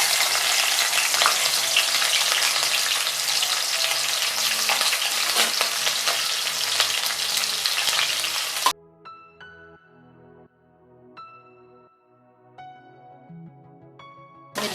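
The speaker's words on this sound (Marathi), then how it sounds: "मिरच्या फ्राय करायच्या आहेत।" Green chillies fry in about three spoons of hot oil for sabudana khichdi, giving a loud, continuous close sizzle for roughly nine seconds before it cuts off abruptly to quiet, tonal background sound.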